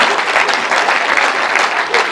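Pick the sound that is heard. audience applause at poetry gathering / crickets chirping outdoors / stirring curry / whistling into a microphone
audience applause at poetry gathering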